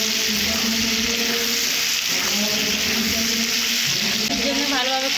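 Meat and potatoes frying together in a pan, a loud continuous sizzle with occasional stirring scrapes, a faint hum and tonal background sounds running underneath.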